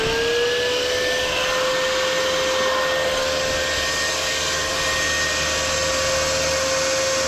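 A cutting machine set to cut at 50 mm runs continuously, a loud steady whine and broadband roar with a constant pitched tone throughout, without pauses or talk.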